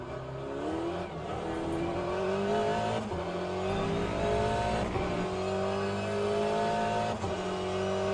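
A car engine revving high at around 5,000 to 6,000 RPM, a steady loud drone with rising and falling harmonic tones, heard from inside a cabin with little sound insulation.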